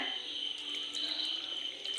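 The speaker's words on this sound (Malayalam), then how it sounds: "പശുവും പാൽ ഒഴിക്കാൻ പോവാണേ" Cow's milk poured into karkidaka porridge, a short, continuous liquid pour that sounds close and steady with no voices.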